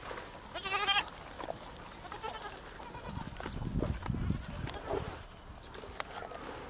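Goats bleating on a small rural farm in the Philippines, several wavering calls near the start followed by more bleats and animal shuffling over a low background, with no talk.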